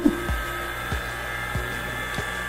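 A vacuum pump steadily evacuates a tank holding oil and water, giving a continuous mechanical hum and whine with faint rhythmic pulses repeating about every half second, close and alone with no talk.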